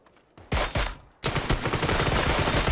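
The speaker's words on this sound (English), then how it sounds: "Someone else is shooting him." Video game gunfire in a multiplayer shooter, with a burst of shots around the half-second mark and then a sustained loud volley of rapid automatic fire.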